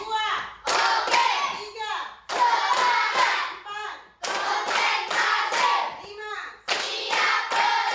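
Children in an Indonesian classroom ice-breaker clap hands in a steady rhythmic pattern, short bursts of clapping alternating with group chanting of counts, close and lively.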